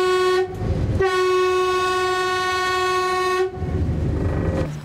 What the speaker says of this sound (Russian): Женщина даже не реагировала на сигнал локомотива.